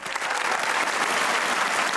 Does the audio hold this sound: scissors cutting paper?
no